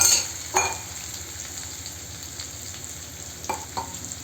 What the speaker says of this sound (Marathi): तेलात लसूण आणि हिरवी मिरची घालूया आणि त्याला छान परतून घेऊया